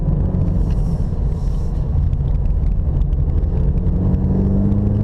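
Cadillac CT4 engine pulling hard at full throttle on a mountain road, a steady loud low rumble with rising revs throughout, no talk over it.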